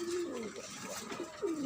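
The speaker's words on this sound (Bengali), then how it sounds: "এদিকে হচ্ছে কবুতরের খামার, ঘুঘু পাখি আছে।" Pigeons and doves on a rooftop pigeon farm in a garden, cooing softly at close range, with a few low throaty calls rising and falling over a faint background hiss.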